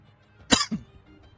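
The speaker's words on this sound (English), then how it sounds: "Excuse me, I've got to have a coughing fit now." A person coughs twice in quick succession, close and fairly sharp, with no talk around it.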